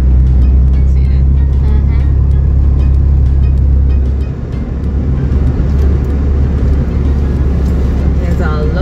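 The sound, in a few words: road traffic passing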